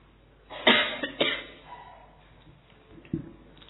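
Two sharp coughs ring out close together, then a quieter cough follows after a short pause over a faint room hum.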